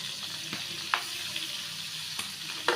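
Fish frying in a pan on a home stove, a soft, steady sizzle with a few sharp utensil taps and clicks scattered over it.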